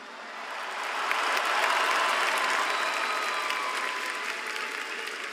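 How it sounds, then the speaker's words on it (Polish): Large arena crowd of about fourteen thousand applauding at a fight event, a dense, steady roar of clapping that swells after the first second and holds loud throughout. "Ogromne brawa dla debiutantki."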